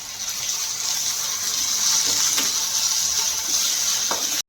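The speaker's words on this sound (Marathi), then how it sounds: "आता आपण ह्याच्यामध्ये भाजून घेतलेल्या खोबऱ्याची जी आपण पेस्ट बनवून घेतलेली ती ॲड करू" Roasted coconut paste hits hot oil for an egg curry, giving a loud, hissing sizzle with a few crackles that continues steadily for about four seconds before stopping abruptly.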